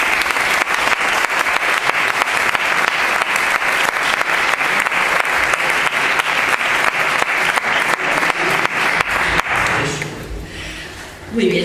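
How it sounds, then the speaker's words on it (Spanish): An audience applauds at a Partido Popular campaign event presenting the 2015 municipal candidacy in Béjar, with loud sustained clapping that fades away near the end as a voice starts to speak. "Yo pido un aplauso fuerte para el actual y para el próximo también alcalde de Béjar, para Alejo Riñones."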